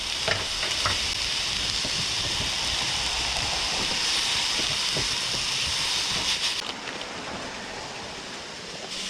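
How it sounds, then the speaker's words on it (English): Green onion, red pepper, jalapeno and onion sizzle and crackle steadily in sesame oil in a hot pan, a loud continuous frying hiss with occasional stirring clatter. "I'm going to fry all my vegetables and onion with sesame oil"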